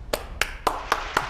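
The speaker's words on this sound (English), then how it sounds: "I can hear everybody around the Piedmont applauding to you right now" Five sharp hand claps land at an even, moderate pace, each short and crisp against a quiet background with no talking.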